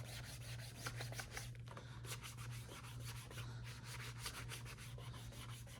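Close, steady rubbing of Saphir wax onto a leather shoe during a basic shine, rapid back-and-forth brushing strokes in a continuous rhythmic swish over a low background hum.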